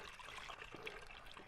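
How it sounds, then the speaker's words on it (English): Juice poured from a one-gallon container into a carboy while making peach cider, a steady liquid trickle and splash that runs continuously and fairly quietly, with no talk. "go ahead and just add this 1 gallon of juice to the carboy"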